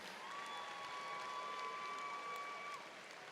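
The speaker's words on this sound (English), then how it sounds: "Let's give them a big round of applause again for getting there" A gymnasium crowd at a spring commencement ceremony applauds graduating students, a faint, distant, steady wash of clapping with a thin sustained tone running through it.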